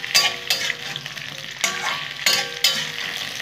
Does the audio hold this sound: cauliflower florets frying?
yes